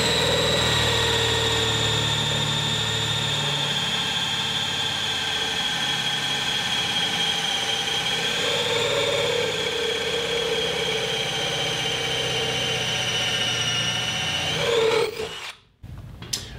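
A DeWalt 20 volt power tool driving a spin swaging tool, a loud, steady high-pitched whine with a constant drone held for about fifteen seconds, then winding down and cutting off with a short clunk.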